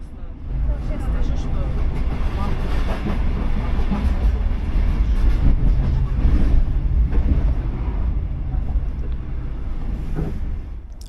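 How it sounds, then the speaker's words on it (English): A Finnish SM5 commuter train rumbles steadily along the rails toward Pasila with faint clickety-clack, heard from on board as a continuous loud roar. "we race one of the SM5 commuter trains operating a service along the line"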